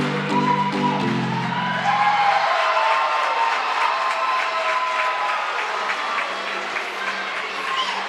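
A crowd applauds at a gymnastics meet, a broad steady wash of clapping that carries through the whole stretch, with a brief tonal hum near the start and a faint commentator voice underneath.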